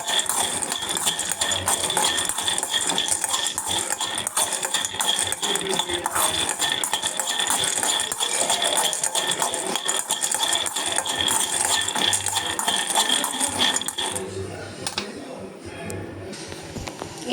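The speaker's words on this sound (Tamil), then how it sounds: "இங்கே அடுப்பத்தை வச்சு கடாயை வச்சுருக்கேன், அதில் வேர்க்கடலை போட்டிருக்கேன்" Peanuts dry roasting in a kadai on a stove, stirred continuously with a utensil: a steady, loud, close metallic rattling and scraping that goes on throughout and eases off near the end.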